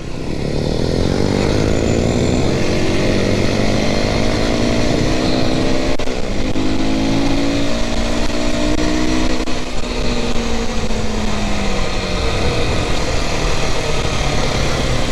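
A new Aprilia SX 125 motorcycle engine runs loud and close throughout, idling with a rough, steady rumble and rising in pitch as it is revved.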